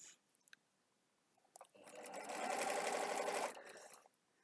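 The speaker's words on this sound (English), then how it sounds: "her little Disney sewing machine" A small toy Disney sewing machine whirs in one short, steady burst of about two seconds, preceded by faint clicks and taps in a quiet room.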